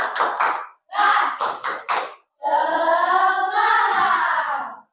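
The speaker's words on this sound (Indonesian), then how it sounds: "Tepuk semangat." A classroom of students does a rhythmic spirit clap, two quick bursts of patterned hand claps followed by a sustained group chant of voices, all loud and close.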